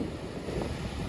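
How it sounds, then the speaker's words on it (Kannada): Strong wind on a beach roars and buffets the microphone in a dense, continuous rumble, with no talking. "ಜೋರ್ ಗಾಳಿ,"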